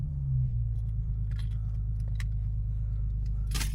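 A Toyota Supra A90 is switched on from inside, with keys jangling over a steady low engine hum and a few light clicks, then a brief bright chime close to the end.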